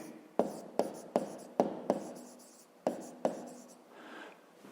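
Pen on paper while solving a fifth-grade maths exercise, a series of about eight sharp close taps and strokes at an irregular rhythm, ending in a softer scratching stroke, with no talking.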